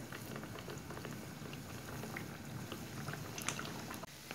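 Egg and yogurt dough fritters sizzling in hot oil, a soft continuous crackling and bubbling with faint scattered pops, fairly quiet and steady throughout.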